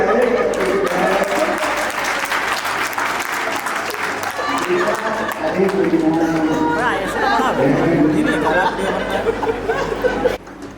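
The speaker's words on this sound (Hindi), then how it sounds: "ताली मिलेगी" An audience claps together at a lecture gathering while chatter and a few chuckles mix in, the clapping strong early and fading toward the end.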